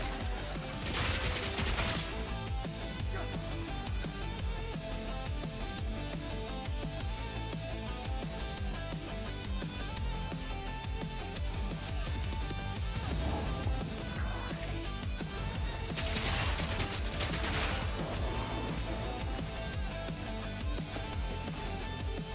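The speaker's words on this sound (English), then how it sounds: "The explosions are insane." Continuous dense, loud combat din of explosions and rapid gunfire in the Path of Exile 2 video game, with heavy bursts recurring throughout and no talk.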